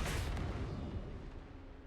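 A TNT dynamite blast in the Trailmakers video game rumbles loudly at the start, then its deep roar decays steadily over the next two seconds with no voices.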